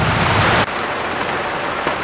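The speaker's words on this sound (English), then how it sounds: "And that's the sound of rain." Heavy summer rain pours steadily at a marina in a dense, continuous hiss that drops slightly in loudness partway through.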